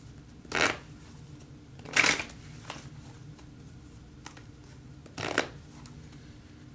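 Tarot cards are shuffled in three quick, soft riffling bursts, each under a second long, with quiet pauses between them and no talking.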